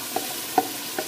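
Onion and tomato masala fries in a pan with a soft continuous sizzle, broken by three faint stirring clicks.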